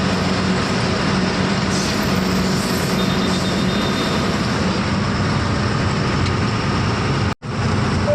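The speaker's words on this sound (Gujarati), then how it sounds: "સચાણા ટ્રેન જાય છે જો ભાઈ," A loaded goods train passes close by near Sachana, a dense, steady rumble of wagons rolling continuously with a brief dropout near the end; no speech.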